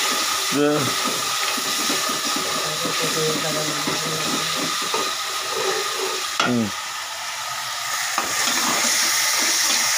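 Cumin, ginger and garlic frying in a pan give a steady close sizzle with hiss, with stirring scrapes and brief clatters over it and a voice speaking now and then.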